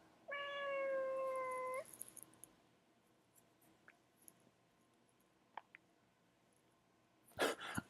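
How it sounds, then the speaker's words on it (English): A pet cat gives one drawn-out, tonal meow close by, followed by a few faint clicks and a short louder rustle near the end, with no speech. "Oh, my cat wants to join in."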